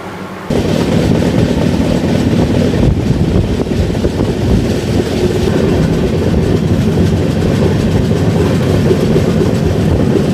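A moving passenger train, the Howrah–Puri Superfast Express, rumbles loudly and continuously from inside a 3E coach, with a steady roar and faint rhythmic rattling of the carriage over the rails.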